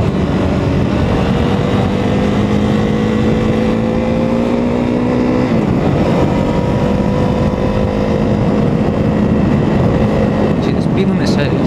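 A KTM 390 Duke motorcycle rides along a road with a steady engine drone whose pitch rises and drops through gear changes, heavily mixed with loud wind rush and rider talk.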